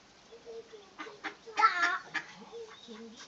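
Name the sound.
ducks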